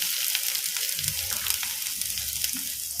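Chopped onion frying in oil in a pan for wheat rava dosa, a dense steady sizzle close up with soft low stirring bumps underneath, no voices.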